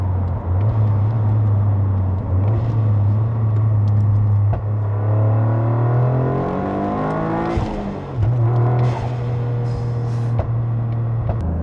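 A stage 3 Toyota Yaris GR4 with turbo and a popping exhaust pulls hard, its engine note climbing through the revs, dropping at a gearchange, then building again, heard loud from inside the car with no talk.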